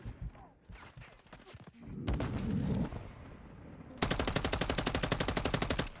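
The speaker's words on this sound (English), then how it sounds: "Stop shooting at me, please." Video game gunfire in Modern Warfare 3 fires at the player in scattered bursts, then a loud, rapid automatic stream of evenly spaced shots that carries on to the end.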